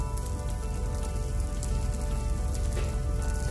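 Beaten egg poured over a dosa sizzles loudly and steadily in a hot pan, a dense, even crackle like rain on a surface, with no talking.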